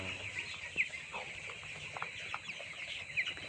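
Chickens on a poultry farm cluck in short, close bursts over a steady background of many birds, with a few louder calls standing out.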